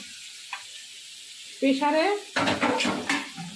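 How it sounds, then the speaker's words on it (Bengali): Potatoes frying in a pan give a quiet sizzle at first, then louder bursts of crackling and spatter, with a voice speaking over part of it. "আজকে ব্রেকফাস্টে হচ্ছে দেখো এখানে আলু ভাজা হচ্ছে"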